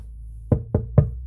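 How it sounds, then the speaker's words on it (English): Three sharp knocks on wood, close and evenly spaced, at an RV service shop where new slide toppers are being installed, with a low steady hum behind them. "That was a knock on wood."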